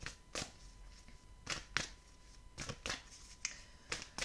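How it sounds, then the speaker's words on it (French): A tarot card is pulled from a deck, producing a series of crisp, quick papery flicks and snaps at irregular intervals, close and fairly quiet with no voice over them. "Je vais prendre une dernière carte du Béline"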